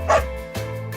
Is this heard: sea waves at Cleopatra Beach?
no